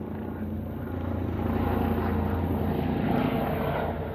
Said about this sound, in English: helicopter, eh? Or there's an airplane ahead